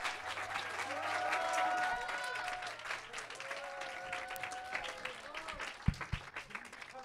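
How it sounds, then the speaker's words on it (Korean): A youth worship congregation claps to welcome a preacher, sustained crowd applause running throughout while voices talk and call out over it, with a couple of sharp knocks near the end. "우리 전사님 나오실 때 우리 큰 박수로, 환영의 박수로"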